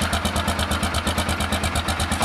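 A carbureted Yamaha XTZ 660 motorcycle engine idles up close, its loud, lumpy exhaust pulsing in a steady rhythm.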